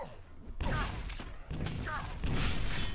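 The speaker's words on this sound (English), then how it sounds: "Now Fazz is actually able to get a direct rocket, but kRoNic does a little bit of rocket damage himself" Rockets fire and explode in a fast Quake arena match, dense blasts and thuds packed together under an excited commentator's voice.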